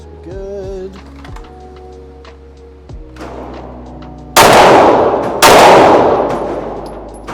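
Two loud, close gunshots at a shooting range, each a sharp blast trailing off into a long rolling echo, preceded by lighter metallic clicks and handling clatter, with no talking.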